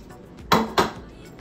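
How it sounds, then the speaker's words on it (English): Pan sausage dropped into a metal casserole pan while making cheesy broccoli rice casserole: two sharp clanking knocks about a quarter second apart, close and fairly loud over a quiet kitchen background. "I'm gonna go ahead and put my pan sausages in it."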